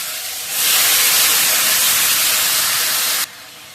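Stalk vegetables go into hot oil with fried fish and fenugreek. A loud, close sizzling hiss bursts in abruptly, holds steady for a few seconds, then drops away.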